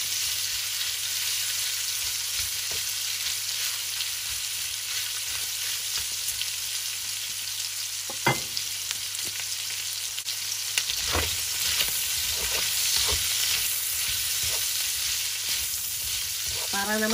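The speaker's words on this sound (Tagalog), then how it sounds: "Haluin po natin kasi baka masunod ang ating pork." Pork frying in a pan for ginataang puso ng saging: a steady, broad sizzle runs throughout, with a few sharp scrapes and clinks of a utensil stirring the meat, especially in the second half.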